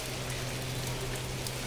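Early rain arriving in May patters down evenly, a soft continuous hiss of drops hitting nearby surfaces over a low steady hum, with no voices present.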